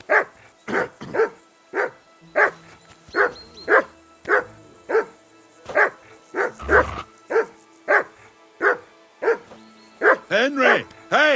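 Repeated loud, close barking from a dog in the medieval game Kingdom Come Deliverance 2, a steady run of sharp barks roughly twice a second with a yelp near the end.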